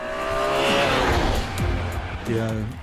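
A BMW M3 E46 inline-six engine revs hard toward almost 8,000 rpm and climbs in pitch, with tire noise and a second burst of revving near the end, loud and close.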